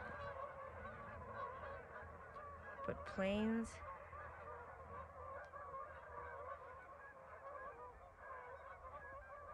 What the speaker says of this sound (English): And apparently geese.